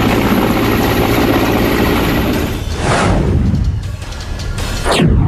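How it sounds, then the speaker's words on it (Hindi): A helicopter flies over a disaster-hit mountain valley, its loud, continuous rotor and engine roar steady throughout, dipping slightly in the middle as it passes and then swelling again. "सरकार और सेना भी लगातार हेलीकॉप्टर के जरिए राहत और बचाव की कोशिशों में जुटी है।"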